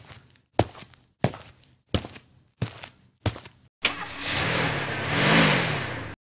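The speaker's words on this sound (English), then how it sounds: "Let's get in the car." People get into a car, heard as a series of door and seat thunks at a steady pace, followed by an engine starting and idling close by.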